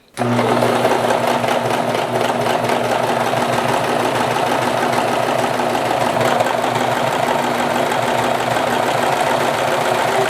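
A serger sewing machine gathers fabric with both needle tensions raised to maximum, running as a steady, loud, fast mechanical whir with a constant low hum for the whole stretch, no voices.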